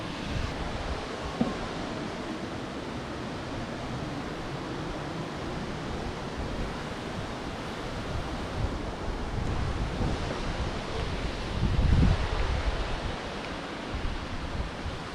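A waterfall roars steadily and broadly, a dense, continuous rush of falling water that stays loud and close throughout with no voices.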